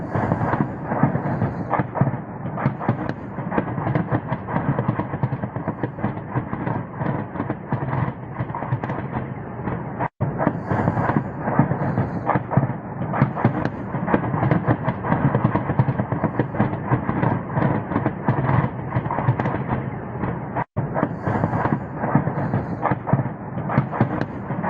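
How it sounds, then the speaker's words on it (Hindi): Continuous rumbling booms and heavy crackling blasts roll on without pause, dense and distant-sounding, like sustained bombardment across a wide area of Kharkiv during the Russia-Ukraine war. "खार्किव में भी जबरदस्त बमबारी।"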